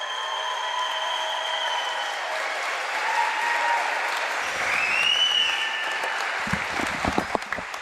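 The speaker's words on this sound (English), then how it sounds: "let's give one more big round of applause for our 2025 Lady Devil Volleyball seniors" A gym crowd applauds volleyball seniors on senior night at a 2025 Lady Devil varsity match, sustained clapping and cheering filling the space, with a few louder claps and scattered voices near the end.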